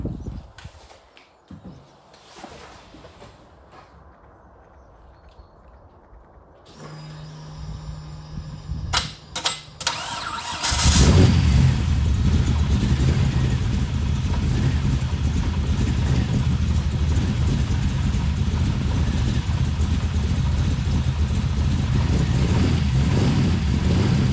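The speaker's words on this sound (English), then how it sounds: "we'll try and crank her over" An LS1 V8 swapped into a Mazda MX-5 NC Miata with a new cam cranks over after a quiet stretch, catches, then settles into a loud, sustained rough idle and revving close by.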